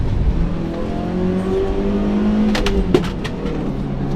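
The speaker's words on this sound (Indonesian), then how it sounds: "suara mesin masuk semua, dan suara mesinnya jujur aja enak." A Daihatsu Gran Max 1.3 engine hums and pulls steadily from inside the cabin in second gear, its tone rising as it accelerates, with a few sharp clicks or ticks near the end.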